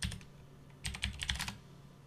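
Keys clatter in a quick, close burst as a command is typed on a computer keyboard, a dense run of clicks with a short gap partway through.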